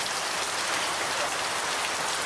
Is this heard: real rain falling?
yes